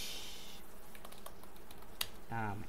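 A few scattered keystrokes on a computer keyboard while an SQL query is typed, quiet and irregular clicks over a low background hum.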